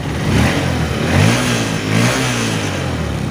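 A Honda Verza motorcycle engine, running while being checked for sudden stalling, revs up in several throttle blips over a rumbling idle, close and loud.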